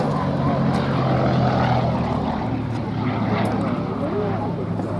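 A Gloster Gladiator, the RAF's last biplane fighter, flies at an air show, its piston engine and propeller giving a steady, loud drone throughout while a commentator's voice talks over it.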